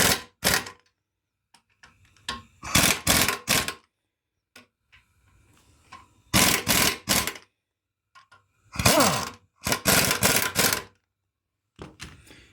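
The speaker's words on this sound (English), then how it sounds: "Let's give them a little air wrench action here." Air wrench tightening rear axle bolts on a Chevy Silverado during an axle change, firing in several loud short rattling bursts separated by pauses, with faint clinks of tools between.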